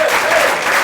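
A talk-show audience gives a short burst of loud, dense applause, many hands clapping together close by.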